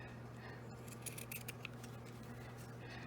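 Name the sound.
scissors trimming fabric squares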